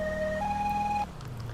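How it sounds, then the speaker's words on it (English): British police car siren in GTA 5 running a two-tone alternating pattern, loud and close, cutting off abruptly after about a second and leaving a low engine rumble. "we can turn the sirens off"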